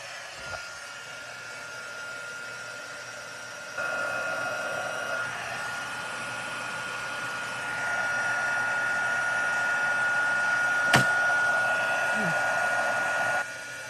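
A heat embossing tool blows hot air over gold embossing powder on a stamped card, a steady whooshing fan hiss that switches up in intensity a couple of times and cuts off near the end.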